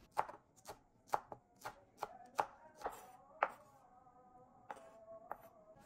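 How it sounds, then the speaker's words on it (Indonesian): Knife chopping spring onions into small pieces on a board, a run of about a dozen crisp, close chops in an uneven rhythm, spaced slightly apart, with no talking. "Potong ukuran kecil."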